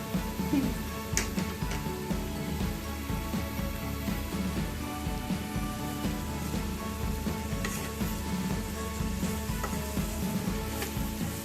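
Kadai paneer gravy sizzling and frying in a pan, a continuous crackling hiss with scattered sharp pops and occasional clicks running steadily throughout.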